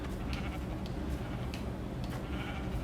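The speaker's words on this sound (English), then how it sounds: "Get some sheep here." Sheep bleat faintly in Minecraft Bedrock edition, a few brief calls buried in a steady wash of background noise.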